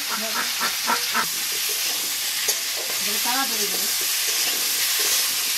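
Pointed gourd (parwal) fries in oil, a steady close sizzle and hiss running throughout, with a few faint background tones and bumps over it.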